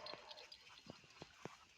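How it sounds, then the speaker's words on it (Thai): A dog barks in the distance at a rural Thai home, a few faint, scattered barks spaced irregularly over a quiet background. "ไม่รู้เห่าอะไรนะครับ"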